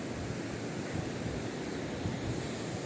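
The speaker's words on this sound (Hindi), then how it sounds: "नीचे गंगा माँ बह रही है" The Ganges flows below a mountain path near Badrinath, heard as a steady, broad rush of water mixed with wind noise, with no voices.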